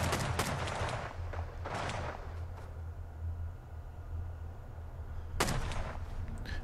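Scattered bursts of gunfire in the game Rust during a raid, a few sharp volleys spaced apart over a steady low rumble, with a final crack near the end.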